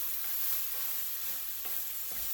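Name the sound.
stirring and mixing pork fried rice in a pan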